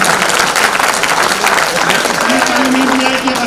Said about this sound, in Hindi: एक बार ताली बजाओ अपने।